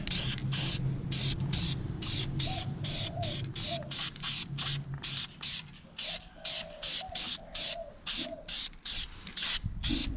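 Red high-temperature caliper paint sprayed from a can in a rapid series of short, close hissing bursts with brief gaps between them.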